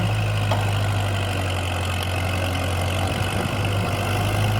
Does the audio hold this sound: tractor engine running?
yes